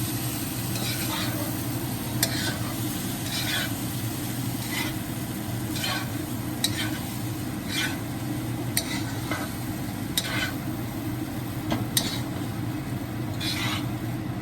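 Basmati rice being stirred and mixed with spices in a hot pan over lowered heat, a steady low sizzle with repeated soft scraping strokes of the spoon every second or so, close and continuous with no voices.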